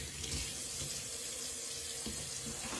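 A faucet runs steadily while a spoon and a fish net are rinsed under it to wash out soap, a soft constant splashing close by with faint handling sounds.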